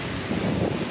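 Strong gusting wind buffeting the microphone aboard a sailboat at sea, a brief loud roaring rush over the sound of water.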